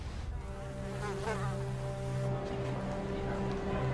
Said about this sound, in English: The unlikely frontrunner, the mosquito.